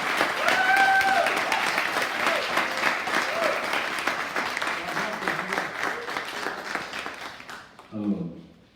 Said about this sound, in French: Un tonnerre d'applaudissements s'il vous plaît pour Monsieur